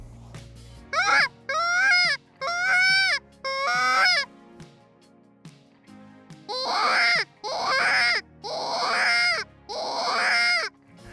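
Deer call mimicking a doe or fawn distress bawl: a series of about eight loud, wavering bleating cries in two groups, each lasting under a second, with short pauses between them.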